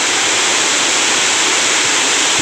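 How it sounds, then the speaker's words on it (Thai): A loud, unbroken rushing roar fills the air at Khun Korn, a high single-drop waterfall in the forest of Chiang Rai, with no voices over the constant water noise. "คือน้ำตกขุนกรนะครับ"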